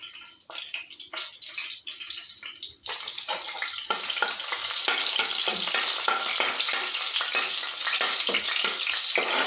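Onions sizzle and fry in a hot pan, a dense steady crackle that starts patchy with a few stirring scrapes, then fills out into a continuous loud hiss close to the mic.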